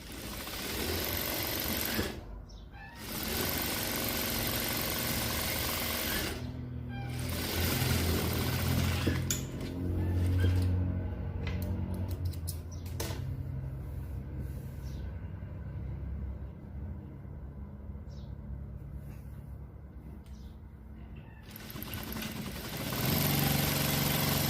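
A sewing machine runs in long continuous stretches while stitching fabric strips for a patchwork bag, its steady mechanical whir and rumble pausing briefly a few times before resuming, close and fairly loud with no talk.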